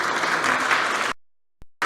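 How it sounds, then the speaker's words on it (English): Audience applause at a startup innovation conference stage, a dense burst of many hands clapping that cuts off abruptly, followed by silence, then a faint click and the clapping briefly resuming. "You can applaud a bit."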